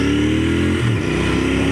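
A Royal Enfield Interceptor 650 parallel-twin motorcycle runs loud and close, its steady engine drone briefly rising and dipping in pitch as the throttle blips mid-way, with no talking.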